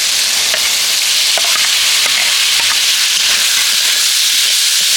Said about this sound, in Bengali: এবার আমি এই কড়াইতে একে একে সব মশলা সব কিছু একসাথে দিয়ে দেব এবার আমি যে ভেজে রেখেছিলাম সেই ছাতুটাও দিয়ে দিচ্ছি